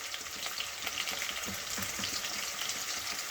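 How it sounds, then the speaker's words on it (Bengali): Potatoes fry in hot oil with salt and turmeric, a soft, even crackling sizzle with small scattered pops, steady and fairly quiet throughout. "দিয়ে আলুটাকে ভেজে নেবো লাল করে"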